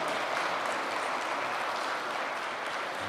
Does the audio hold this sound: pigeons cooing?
no